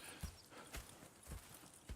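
Horses' hooves clip-clop in the Red Dead Redemption 2 video game, a faint, irregular series of hoofbeats plodding along at a slow walking pace.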